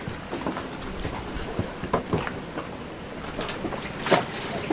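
Sailboat's auxiliary motor idling after being started, a low steady rumble with scattered knocks and clunks on deck, some distant voices faintly in the background.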